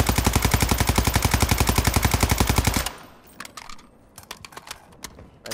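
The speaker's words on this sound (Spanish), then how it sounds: "Antirretroceso, apuntamos y disparamos." Kronen Squall rifle in Warzone 2.0 fires a rapid, loud, evenly spaced automatic burst of about three seconds, followed by quieter scattered clicks and faint distant shots.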